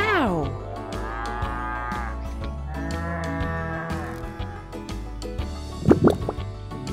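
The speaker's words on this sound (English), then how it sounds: "Small horns and a sound that goes moo." A cow gives several long, clear moos over a soft background bed, ending with a few quick watery plops.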